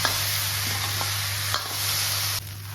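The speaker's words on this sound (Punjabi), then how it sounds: "ਭਿੰਡੀ ਪਾਉਣ ਤੋਂ ਬਾਅਦ ਹੁਣ ਆਪਾਂ ਨੂੰ ਉਦੋਂ ਤੱਕ ਭੁੰਨਾਂਗੇ ਜਦੋਂ ਤੱਕ ਭਿੰਡੀ ਦੀ ਜਿਹੜੀ ਲੇਸ ਨੂੰ ਖਤਮ ਨਾ ਹੋ ਜਾਵੇ" Okra stir-fries in a pan for a dry sabzi, a constant hiss over a low hum with occasional light clicks of stirring and no talk.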